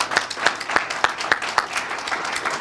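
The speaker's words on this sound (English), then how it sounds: "if you can give them a round of applause" A small crowd applauds a community team at a Milton Miracle on Main event launch, scattered hand claps blending into a steady, fairly close wash with a few sharper individual claps standing out.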